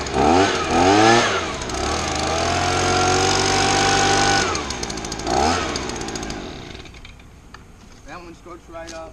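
A 2003 to 2005 Stihl BG55 handheld leaf blower's small two-stroke engine, up close and loud, revving up and down several times before idling down and shutting off.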